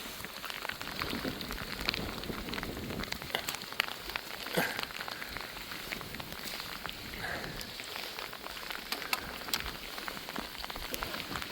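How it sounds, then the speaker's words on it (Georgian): Steady rain pours over a lakeside campsite at Lake Paravani, a dense, continuous hiss of drops striking surfaces with scattered sharper taps throughout, no voices. "აღარ გვინდა ეს წვიმა."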